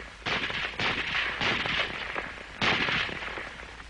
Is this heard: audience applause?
no